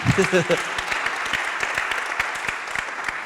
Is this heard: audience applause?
yes